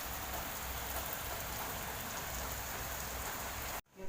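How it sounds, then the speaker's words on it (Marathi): Steady rain falls continuously, a dense even patter with no voices, cutting off abruptly near the end. "अर्धा तास झाला आहे पाऊस पडतोय"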